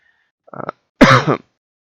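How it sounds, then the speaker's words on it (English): A single short throat-clearing cough, loud and close, preceded by a small scuffing sound, with silence around it. "Apologies for the cough there."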